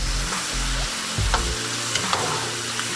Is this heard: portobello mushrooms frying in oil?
yes